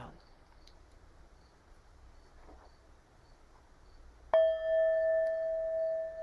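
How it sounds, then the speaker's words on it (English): A bell is struck once during a guided relaxation session, a sudden clear ring that sustains as a steady, pure tone, following a quiet stretch of faint background hiss. "Hearing the sound of the bell"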